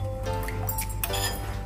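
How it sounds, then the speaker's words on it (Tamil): Chicken stock, the water from boiled chicken, is poured into a sauce for a grilled chicken and avocado salad, giving close, wet dripping and splashing sounds over a low background hum. "சிக்கன் வெந்த தண்ணியா இந்த கொஞ்சம் ஸ்டாக் வர ஆட் பண்ணிக்கிறீங்களா"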